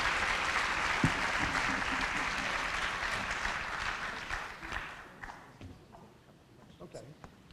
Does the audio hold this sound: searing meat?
no